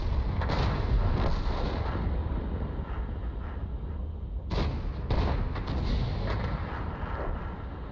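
Tank cannon shells firing from a Bat Chat 155-58 at a 4005 in World of Tanks, heavy booming shots with rumbling battle noise throughout, two sharp blasts standing out near the middle, loud and close.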